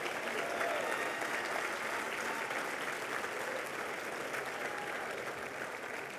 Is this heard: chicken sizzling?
no